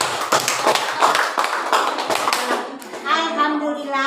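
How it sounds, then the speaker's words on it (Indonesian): A classroom audience of students claps unevenly for a group presentation, with scattered, fairly close claps for a few seconds before a voice starts talking. "Kasih tepuk tangan dulu."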